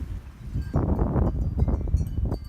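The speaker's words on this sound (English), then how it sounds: "please pardon the wind noise" Low rumbling gusts of wind buffeting the microphone outdoors in a vegetable garden, a steady blustery roar that rises and swells throughout.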